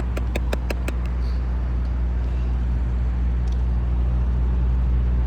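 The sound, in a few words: heavy car traffic on the northbound highway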